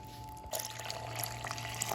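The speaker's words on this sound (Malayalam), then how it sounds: "2 കപ്പ് വെള്ളം ഒഴിച്ചു കൊടുത്തിട്ടുണ്ട്." Water is poured into a mixer jar holding rice flour for dosa batter, starting suddenly as a soft, continuous splashing trickle over a low steady hum, close and fairly quiet.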